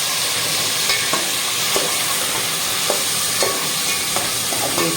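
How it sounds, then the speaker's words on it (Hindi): Meat fries in a pan with a steady, loud sizzle, while a utensil scrapes and taps against the pan at fairly regular intervals throughout. "अब ये थोड़ा सा गोश्त हम फ्राई करेंगे।"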